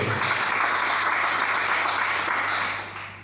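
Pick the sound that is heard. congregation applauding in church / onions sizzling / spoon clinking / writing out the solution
congregation applauding in church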